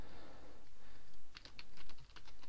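Keys clatter on a computer keyboard while a tweet is typed, a quick run of light clicks in the second half over steady background hiss, fairly close and moderately quiet.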